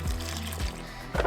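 Water poured into a blender jar for a vegan smoothie, a short, close pour lasting about a second with a brief splash at the end.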